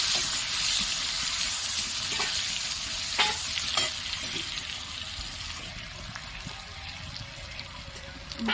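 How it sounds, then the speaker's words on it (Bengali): Chopped onions frying in hot oil for a Bengali prawn and potato poppy-seed curry, a loud bright continuous sizzle with a few sharp stirring clicks close up. "তেলটা গরম হয়ে গেছে। আমি এখানে পেঁয়াজ কুচি দিয়ে দিলাম। পেঁয়াজগুলো আমি ভালোভাবে ভেজে নেব।"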